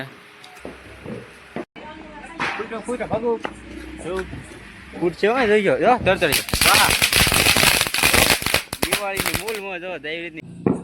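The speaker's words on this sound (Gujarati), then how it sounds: "પછી આ વાયર બોમ્બ છે" Diwali wire bomb firecrackers in a village celebration go off in a dense, rapid crackling burst lasting several seconds, preceded and surrounded by people talking nearby.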